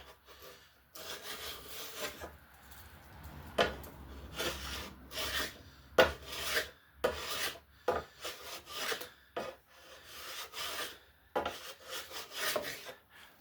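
Hand rasp scraping along a laminate longbow limb with pink, purple and yellow layers, raising shavings; repeated rough rubbing strokes in uneven bursts, close and fairly loud, with short pauses between passes.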